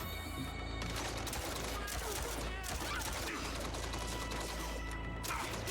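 Dense, loud gunfire fills the action scene in the Mindseye video game, continuous shots and impacts blending into a chaotic fusillade with little pause.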